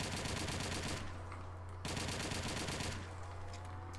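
Rapid continuous automatic fire from an MP40 submachine gun in a Call of Duty zombies game, coming in sustained bursts with brief breaks between them over a low background hum.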